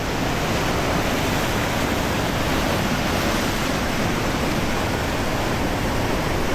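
Strong ocean waves crash and churn on a rocky beach on Jeju Island, a loud, steady wash of surf roaring continuously without a break and filling the whole stretch.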